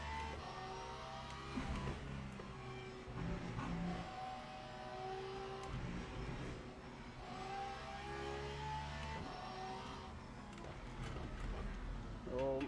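A GT3 race car in a sim racing game, engine droning steadily with rising and falling revs through gear changes, carrying on under someone talking throughout.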